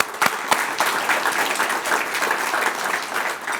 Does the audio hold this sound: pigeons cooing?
no